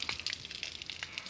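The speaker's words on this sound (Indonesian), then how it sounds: "airnya nyala dan kita buka keran agar airnya mengalir" Water gushes from an opened tap into a drip irrigation hose watering a garden plot of about 700 square meters, a steady close hiss with light splashing throughout.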